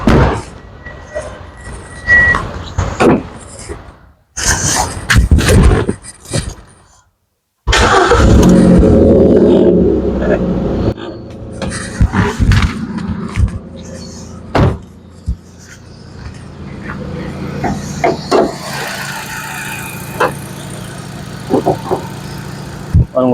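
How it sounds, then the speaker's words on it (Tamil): A low-mileage petrol Hyundai Elite i20 Sportz engine cranks and catches, then idles loudly and revs up, with a few clicks and clunks scattered before and after. "வண்டி ஸ்டார்ட் பண்ணி பார்த்துடலாம்."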